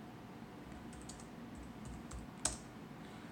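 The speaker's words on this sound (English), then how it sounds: "what I'm going to type in here is the IP address of the computer" Light, quiet keystrokes on a computer keyboard as an IP address is entered, a sparse run of soft clicks ending in one sharper tap, with no talking.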